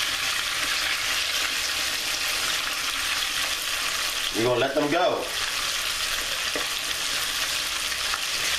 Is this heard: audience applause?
no